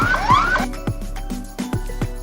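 An ambulance caught in a traffic jam at a busy intersection sounds its siren, a loud wailing tone that sweeps upward, while sharp periodic horn-like pulses and city traffic noise fill the background.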